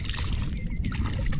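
Water pours and trickles steadily at close range, a continuous splashing flow with no talk over it.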